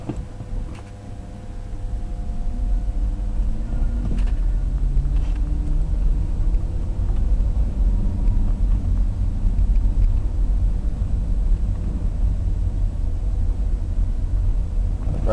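A BMW converted to electric drive reversing, heard as a steady low rumble of motion and road noise with faint higher whine, continuous and fairly close, no talk.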